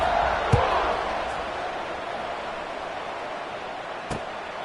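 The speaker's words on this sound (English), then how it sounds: "this crowd is buzzing after that last score" Stadium crowd roaring at a college football game between Indiana and Georgia Tech, just after an extra point. A steady, loud, broad wash of crowd noise, with a couple of brief thumps near the start and again toward the end.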